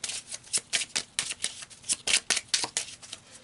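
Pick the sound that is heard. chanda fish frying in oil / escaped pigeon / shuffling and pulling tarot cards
shuffling and pulling tarot cards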